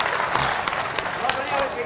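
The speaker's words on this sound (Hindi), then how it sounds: "एक बार जोरदार तालियां बजा के मुझे हौसला दीजिए" Loud, dense applause from a large mushaira audience in Bhopal, a continuous wash of clapping with a few cheers and no pauses.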